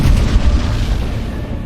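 Heavy cannon and artillery fire from a French army in a Hundred Years' War battle scene of Age of Empires IV: deep, loud booms rolling together in quick succession, then fading into a rumbling tail.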